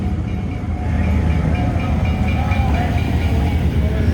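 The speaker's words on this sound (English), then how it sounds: "Oh, the train must be firing up." A train in Keystone rumbles steadily as it fires up nearby, a continuous low mechanical drone with faint tonal whines, loud and sustained throughout, no talk.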